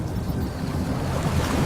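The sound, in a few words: boat launched onto lake water, waves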